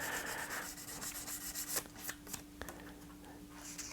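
Fine P800 grit sandpaper rubs across an oak guitar body in quick, soft strokes, a faint close-up rasping with a few sharper scuffs and no talking.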